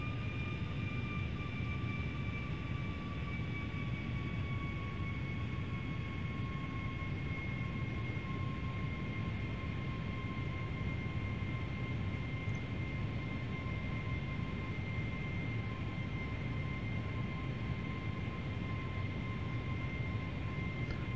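Boeing 757 jet engines in Flight Simulator X during a landing approach with gear down and flaps at 20, a steady loud cockpit drone with two sustained whining tones throughout, unbroken and without talk.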